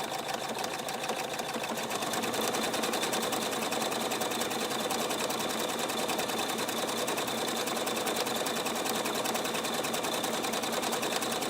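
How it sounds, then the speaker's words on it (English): A Husqvarna Viking Ruby Royale sewing machine stitches with a fast, even mechanical hum and rattle, loud and close, running continuously without a break or any talk. "you push your foot down on the pedal again and you get going"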